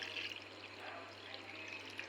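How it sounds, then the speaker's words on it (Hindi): Water poured into a bowl while preparing moong dal: a soft, steady splashing pour heard close up over a low constant hum. "मैंने एक बाउल में पानी डाल दिया है।"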